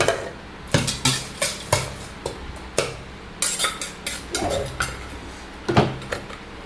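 Crickets and utensils knocking against a bowl while a spicy Thai cricket salad with mango is assembled: a steady run of close, bright clinks and scrapes, roughly two or three per second, with no talking.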